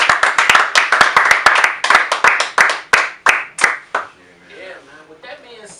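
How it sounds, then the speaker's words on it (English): A few people clapping in a radio studio, sharp distinct claps in a quick uneven rhythm that slow and fade after about four seconds, followed by quiet talk. "let's clap that for him"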